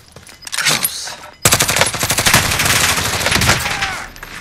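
Rapid automatic gunfire in Call of Duty Warzone, a short burst and then a sustained loud stream of close shots rattling hard for several seconds before tapering.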